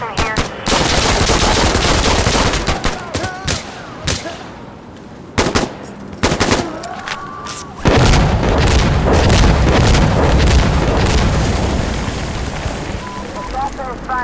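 Gunfire in the Sandstorm video game: sustained loud automatic bursts and heavy booms pound almost continuously, with brief gaps and occasional single shots, and voices come through beneath the shooting.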